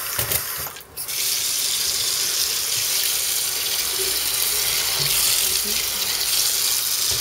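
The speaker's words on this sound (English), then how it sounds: "Add a little water." Water poured from a tap into a container of dimes, nickels and quarters being washed, a steady close rushing flow that runs without a break after a short clatter at the start.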